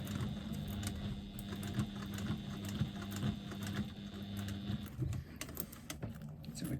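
A sewing machine stitches fabric in a rapid, steady mechanical patter of needle strokes with a constant motor hum, close and even, slowing into scattered clicks near the end.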